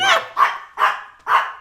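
A dog barks four times in a steady rhythm, close and loud, with no talking over it.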